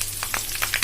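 Cumin seeds sizzle in hot oil for a tempering, crackling in short, bright bursts over a continuous frying hiss.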